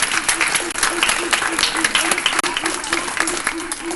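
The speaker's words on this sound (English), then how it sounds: "Give yourself a round of applause." Indoor audience applause from a crowd including students at a live Smithsonian space event, dense clapping throughout with a voice talking over it.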